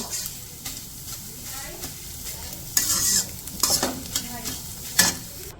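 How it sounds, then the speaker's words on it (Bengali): Eggs fry and get stirred in a wok, with steady sizzling broken by scraping stirs and a few sharp louder clatters of the utensil against the pan, close up. "ডিমগুলো ভাজি করে তখন নামাই নেব"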